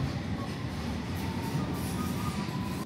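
A London Underground District Line train standing in a station, a steady low rumble and hum of the train and platform with no voices.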